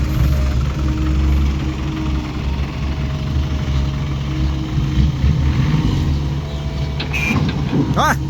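An old tractor loader engine runs steadily while digging soil, a loud continuous low rumble with knocking idle character throughout, and a few brief mechanical clanks near the end.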